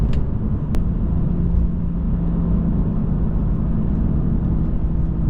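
Steady low engine drone from a BMW held at 3500 RPM with its exhaust valve switched off and on, a constant rumbling hum with a brief click near the start and no talk.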